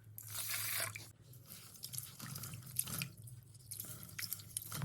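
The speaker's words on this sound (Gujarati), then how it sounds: "અને આપણે પાણીથી ધોઈ નાખીએ" Water sloshes and trickles as rice is rubbed and rinsed by hand in a bowl, with soft intermittent swishing and dripping, close by.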